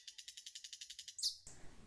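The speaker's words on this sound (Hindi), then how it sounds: "मैना ने अपनी मधुर आवाज़ से गाना शुरू किया" A myna bird sings in a quick, even run of about a dozen bright chirps, followed by one louder, sharper call and then a soft hiss of background noise.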